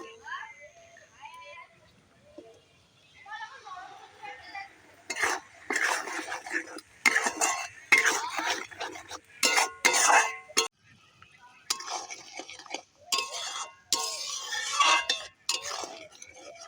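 A spoon stirs spinach paste into a cooked spice masala in a pan, giving repeated scraping and clinking bursts against the metal, with a voice talking softly over the cooking.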